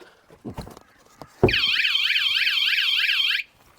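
A self-fitted VanGuardian security alarm on a van sounds right after arming: a loud, close electronic siren wailing in rapid rising-and-falling sweeps for about two seconds, then cutting off abruptly, with a few clicks and knocks before it starts.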